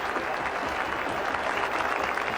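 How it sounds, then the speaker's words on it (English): A cricket crowd at Taunton applauds a boundary during a 1999 World Cup match between India and Sri Lanka, a dense, sustained roar of clapping filling the ground. "The crowd are on their feet."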